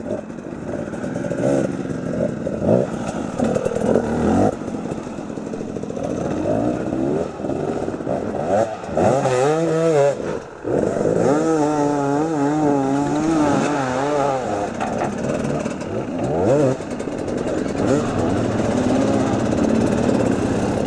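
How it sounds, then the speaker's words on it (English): An extreme enduro motorcycle races down a wooded hillside toward a wooden bridge, its engine revving hard with pitch swooping up and down, loud and close for the whole stretch. "the race leader, Billy Bolt, making his way down the hillside through the trees towards the wooden bridge"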